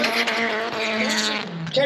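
A drift car slides at full angle through a transition at a drifting competition, its engine wailing and tires squealing continuously at close range while a commentator talks over the roar.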